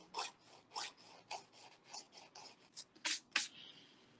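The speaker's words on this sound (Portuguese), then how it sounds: "Vamos lixar a unha dela no sorriso." Nail file rasping a fingernail into a rounded shape during a manicure, heard as about nine short close strokes in an uneven rhythm, the last few louder and sharper, with no talking.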